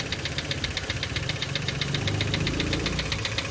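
A Mitsubishi Xpander engine idling before an oil change, running noisy with a steady rapid ticking knock over a constant low rumble, close and without talk.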